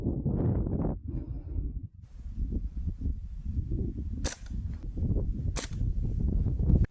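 A Springfield Armory M1 Carbine BB gun fires a rapid string of sharp snapping shots outdoors, close and fairly quick in succession, with wind buffeting the microphone and a couple of especially crisp cracks standing out.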